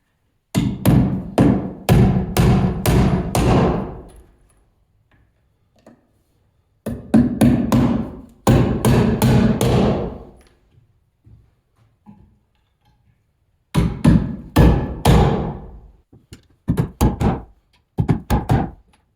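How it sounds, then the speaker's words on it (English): Rapid series of sharp hammer blows in three bursts, loud and close, with quiet gaps between the bursts. "just taking it, setting up like that, and just hammering down on there"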